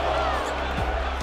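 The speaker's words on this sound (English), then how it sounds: "And listen to this crowd." An away crowd at an NBA arena roars and chants for the Chicago Bulls, a dense, steady wall of voices that fills the whole short moment, loud and continuous.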